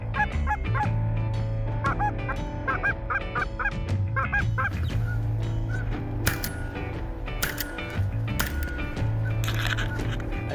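Geese honk in repeated bursts during a goose hunt, a flock calling near and far over steady low background rumble, with a few sharp knocks and clatters toward the end.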